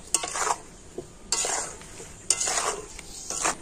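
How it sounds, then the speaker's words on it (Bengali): Mango pieces simmer with jaggery and salt in a pot for pickle while a spoon stirs in three or four bursts of scraping and bubbling, close and fairly loud, with quiet gaps between and no talk. "আমি নাড়াচাড়া করে আমগুলোকে গুড়ের সাথে একটু কিছুক্ষণ ফুটিয়ে নেব"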